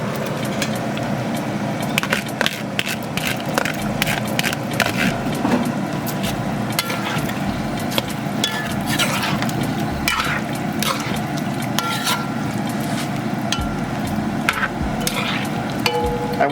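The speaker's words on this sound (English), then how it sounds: "So I wash the rice. I'm gonna toss it in now." Washed rice tossed into a cooking pot of bhagi with spinach and pumpkin gives a close, busy run of wet patters, drips and small knocks that stays at a steady level throughout.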